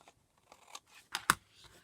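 Scissors snipping paper for a gluebook journal page, a few short close crisp cuts with two sharper snips near the end, in a quiet room with no talking.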